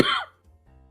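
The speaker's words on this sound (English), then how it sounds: "I'm still coughing." A single short, close cough, followed by a faint low hum.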